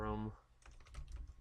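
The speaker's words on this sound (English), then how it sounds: "I'll just use my keyboard." Short, quiet burst of typing on a computer keyboard, a handful of light clicks in quick succession right after a brief spoken word.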